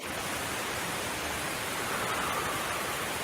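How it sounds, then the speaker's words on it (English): Rain falls at night in the Appalachian woods, a soft, even hiss of drops on leaves and ground with no breaks, quiet and close. "It's raining."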